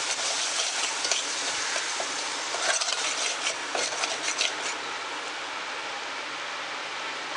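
A spoon scrapes and stirs wet coconut paste through a Malwani fish curry in a pot, a continuous rasping, rubbing sound with brief clinks, near and steady, with no voices.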